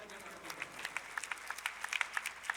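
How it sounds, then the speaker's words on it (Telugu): A church congregation claps together at moderate loudness, scattered sharp hand claps forming a steady patter that runs for a couple of seconds. "దేవునికి ఒకసారి గట్టిగా చప్పట్లు కొడదాం."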